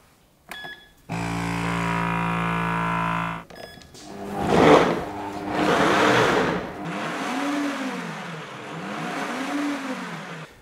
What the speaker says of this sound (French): Quand on actionne ce bouton, ça va retirer l'air. Et une fois que l'air est retiré, il y a un capteur dans la machine qui va déclencher automatiquement la fonction de mixage.